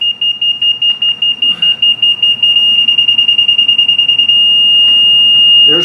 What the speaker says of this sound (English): until I pick up the steady tone on my detector